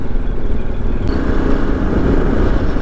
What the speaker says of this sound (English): So I'm going to do a quick ride just to get back on the bike